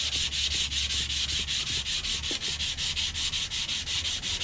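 Sandpaper laid on a flat surface rubs against a horseshoe knife in quick, regular back-and-forth strokes, a loud rhythmic scratchy hiss with about four strokes a second, heard alone.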